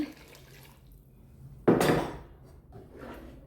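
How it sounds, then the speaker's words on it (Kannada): A short splash of water poured into a pot of chicken coconut curry, sudden and close, fading after about a second, followed by a softer trickle and quiet kitchen noise. "ಮತ್ತು ಸ್ವಲ್ಪ ನೀರು ಹಾಕ್ತಾಯಿದ್ದೇನೆ."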